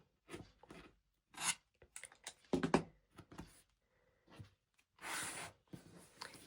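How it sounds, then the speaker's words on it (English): A rotary cutter trims quilting fabric along a ruler in quiet, close strokes, with short scraping passes separated by silences and some light handling noise. "grab my rotary cutter, trim off the right side and"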